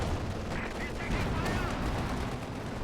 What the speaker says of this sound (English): nice hit by the artillery